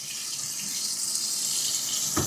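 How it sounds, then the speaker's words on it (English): Hot tap water pours steadily over a rag held beneath it at a sink, a continuous close hiss of running water with a brief dull splash near the end. "Run it under hot water, squeeze it down a little bit"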